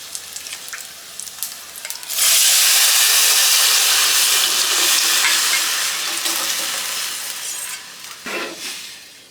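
Tamarind juice hits a hot tempering in a pan for pachhi pulusu and erupts into a loud, sustained sizzle and hiss that slowly fades, after quieter stirring and clinks at the start.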